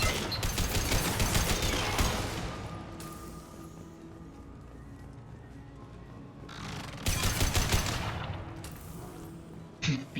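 A hacked turret in Mass Effect 2 fires in dense, rapid bursts, loud and close, then drops to a lower mechanical rumble before a second burst starts up near the end.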